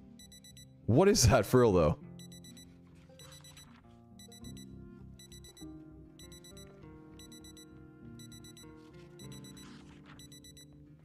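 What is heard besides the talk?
alarm ringing in video game Project Zomboid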